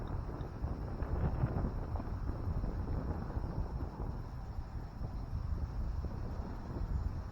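Gusty wind buffeting the microphone outdoors at a tractor show with Allis-Chalmers tractors on display, a steady low rumble and roar that stays loud throughout without letup.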